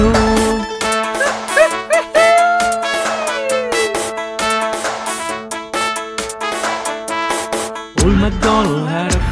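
Dogs bark in quick repeated yips and woofs over a bouncy children's farm song with instrumental backing, the barks loud and close, with a sharp burst near the end.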